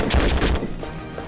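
Gunfire in the video game Conflict: Desert Storm 2: a rapid burst of several loud, closely spaced shots that fades into a quieter tail.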